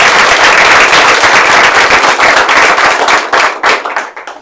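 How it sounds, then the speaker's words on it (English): A school board meeting audience claps for Jennifer Folkman in a loud, dense burst of applause up close that thins into scattered claps and fades out. "Let's give her a round of applause."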